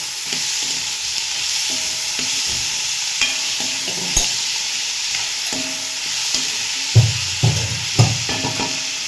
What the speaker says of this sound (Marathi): आता हे चांगलं ना आता परतवून घ्यायचं याला